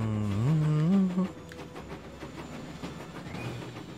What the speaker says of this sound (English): ride the engine